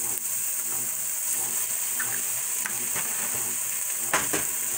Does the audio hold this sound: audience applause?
no